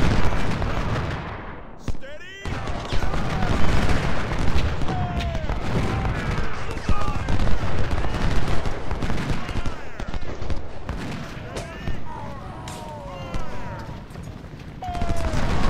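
Cannon and musket fire boom and crackle in the Civil War strategy game Ultimate General, a dense, continuous barrage of heavy blasts and rattling volleys over the whole stretch, loud and near.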